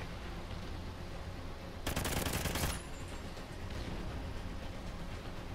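A short burst of rapid automatic fire from an M27-IAR rifle in a first-person shooter game lasts about a second over a steady hiss of background noise.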